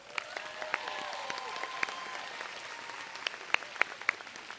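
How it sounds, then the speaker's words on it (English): Audience applause at a university department recognition ceremony: distant, fairly faint steady clapping with a few sharper individual claps standing out for several seconds. "Please join me in giving them a round of applause."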